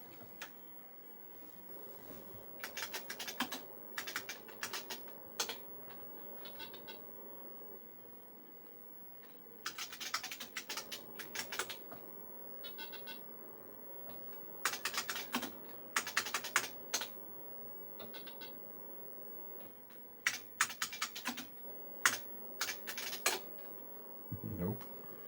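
Keystrokes on a computer keyboard during an IBM Typing Tutor practice session come close and fairly quiet, in quick bursts of rapid clicking separated by short pauses.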